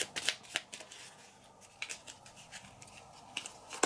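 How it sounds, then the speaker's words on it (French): Cards being handled and drawn from a deck during a tabletop board game, a series of quiet, close riffling snaps and slides in irregular bursts. "je pioche 2 de ces cartes actions"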